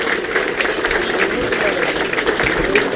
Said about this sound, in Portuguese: uma salva de palmas para os nossos médicos cubanos, que trabalham bastante pela nossa cidade.